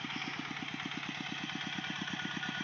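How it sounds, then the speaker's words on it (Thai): A small single-cylinder walking tractor engine, fitted with a corn planter, putters steadily at a fast, even rhythm, close by and continuous throughout, on a Thai farm. "บ้านเราเราเรียกโรอีแตกนะทุกคน เป็นรถไถเดินตามนะทุกคนนะ"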